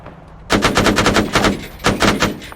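Bursts of automatic gunfire in a military game mission, close and loud, starting abruptly after a quiet moment and repeating in rapid rattling volleys of several shots each, with short gaps between them.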